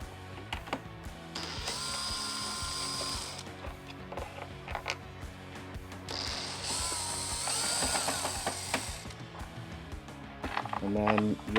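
A T27 driver backs out the outer front fairing screws on a 2014-or-later Harley-Davidson Street Glide, giving ratcheting clicks and mechanical whirring in bursts, with someone talking throughout.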